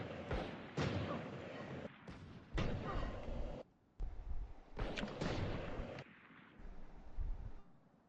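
Gunfire and impact blasts from the tactical shooter Valorant come in loud, dense bursts with short gaps, while someone talks over the action.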